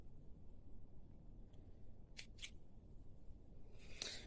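Scissors cutting the edges of microfibre towel fabric, two quick sharp snips close together and then a louder final snip, over a low background hum.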